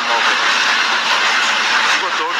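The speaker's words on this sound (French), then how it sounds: "Voilà, le train arrive" Electric train arriving on railway tracks, a dense, loud rushing roar of wheels and motors passing close by, steady throughout with no talk over it.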